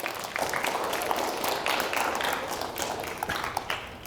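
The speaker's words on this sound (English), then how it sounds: "let's give another round of applause for Sarah." Dense applause from a school audience at a middle school assembly fills the room steadily, many hands clapping at once with no voice on top.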